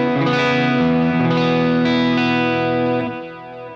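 Electric guitar through an Axe-Fx II delay with its top end rolled off by EQ and grainy repeats, a sustained distorted chord ringing close and fading softly at the end, with no voices.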